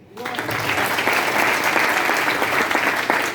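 A large audience at a Vestige initiation program breaks into loud, sustained applause that swells quickly and holds steady, dense and continuous to the end.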